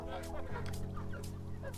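A hen clucks softly while drinking water, her short low calls close by and partly under someone talking.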